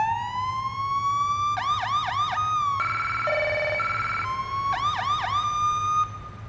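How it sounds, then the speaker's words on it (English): A police car siren from the Police Simulator: Patrol Officers video game sounds loud and close, switching between a rapid warbling yelp, a steady two-tone pattern and a long rising-falling wail, with no talk over it. "And the siren."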